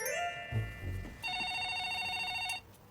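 After some brief knocking and shuffling, a telephone's electronic trill rings once, steady and clear for about a second, then stops.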